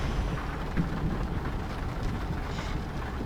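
Steady rain falls at night in the Bus Simulator Indonesia video game, a constant dense hiss with no pauses or distinct drops standing out.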